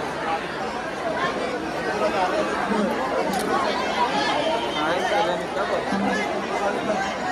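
Dense crowd at the Shri Devi Mauli jatra village fair in Sonurli, a continuous babble of many voices and general hubbub at steady moderate loudness throughout.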